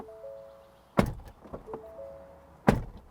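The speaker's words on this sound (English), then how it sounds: "And this is our door slam noise." Two solid car door slams, each a heavy thunk with a short rattle after it, separated by a quiet pause with softer clicks between, on a 2024 Ford Everest Wildtrak SUV.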